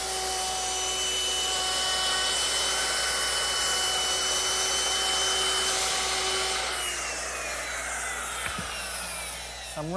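A router with a 1/4 inch roundover bit shapes the top edges of wooden seat slats for a garden chair, a loud steady high whine with a broad hiss that winds down near the end.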